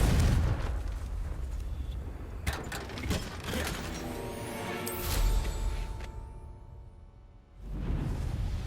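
The Confringo fire spell explodes in the video game Hogwarts Legacy, giving several sharp booming bursts with crackling blasts amid game sounds before a brief lull and a final rumble.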